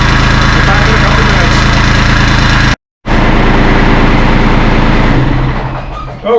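A Kubota LX2610/LX3310 compact tractor's diesel engine idles loudly and steadily close by, its low rumble cut by a brief gap before resuming.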